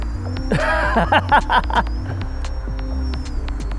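An FT Sportster RC plane hovering on its electric motor, with a steady high whine and low throbbing hum that shift slightly in pitch, and a voice briefly speaking over it early on.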